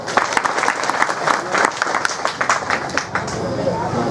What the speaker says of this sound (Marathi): त्यांच्यासाठी सर्वांनी एकदा जोरदार टाळ्या वाजवा